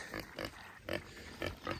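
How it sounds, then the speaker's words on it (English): A pig on a farm grunts several times in short, rhythmic bursts during a heat wave, close by and fairly quiet. "Hey there, piggy."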